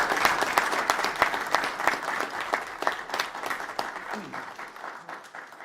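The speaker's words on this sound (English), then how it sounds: "I think we ought to give him a round of applause" Sustained applause from a crowd at a state wildlife commission meeting, dense clapping that stays steady for several seconds and fades slightly toward the end.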